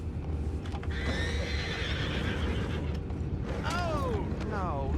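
Horses in the Red Dead Redemption 2 game whinny twice near the end, loud rising-and-falling neighs over a steady background of hoof clatter and ambient noise.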